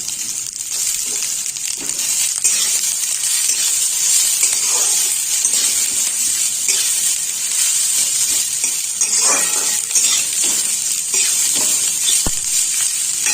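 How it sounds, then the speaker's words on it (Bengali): Cashews and raisins hit hot oil in a pan with oats pulao, a steady loud sizzle and hiss with scraping stirs throughout. "এবার আমি এর মধ্যে কাজু বাদাম কিশমিশটাও দিয়ে দেবো।"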